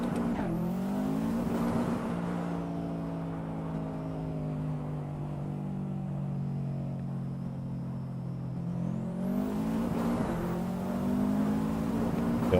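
Subaru WRX STI driven in Assetto Corsa on a busy highway, played with a Logitech G923 wheel: a steady, loud engine drone with harmonic pitch rising and falling through gear shifts, continuous for the whole stretch with no talking.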